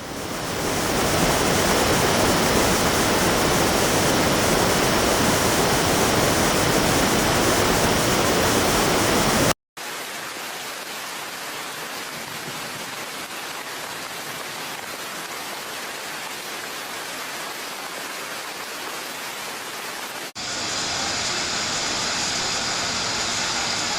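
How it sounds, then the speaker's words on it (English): Loud, continuous roaring of flood water rushing from a dam release through city streets, a dense wash of noise that briefly cuts out and shifts in tone partway through. "Major rivers and reservoirs have spilled over"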